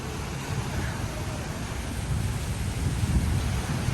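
Steady roar of strong wind buffeting the microphone throughout, a constant rushing noise with no clear talk.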